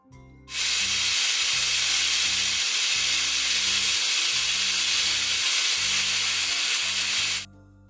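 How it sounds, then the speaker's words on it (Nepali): A pressure cooker of chickpeas on a low flame whistles in one long, loud, steady hissing blast lasting several seconds, with a low rumbling burner underneath and no talking. "र सानो आँचमा 4 देखि 5 सिटी जति पकाउँछु।"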